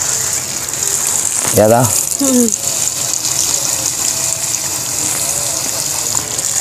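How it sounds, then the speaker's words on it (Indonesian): Water gushes steadily onto the porous potting mix of an aglaonema plant, a continuous close pour as the media drains, with a brief spoken remark in the middle. "Kita siram sampai banyak."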